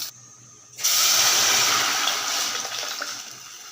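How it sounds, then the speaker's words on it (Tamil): Water pours steadily into a cooking pot for a home-cooked dish, a sudden loud gushing rush that starts after a brief quiet moment and runs continuously to the end. "இதெல்லாம் அந்த தண்ணி எடுத்து ஊற்றிடலாம்"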